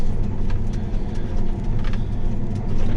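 A John Deere S790 combine harvester driving around grain bins in a farm yard gives a steady, loud, low engine rumble that carries unbroken throughout, with no voices.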